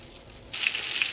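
Salisbury steak meat patties frying and browning in a pan, a faint hiss that swells into steady crackling sizzle after a brief quiet start.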